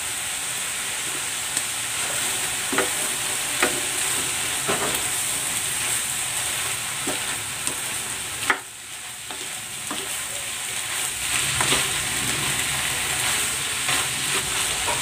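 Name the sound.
chicken sisig with chilies frying and being stirred in a pan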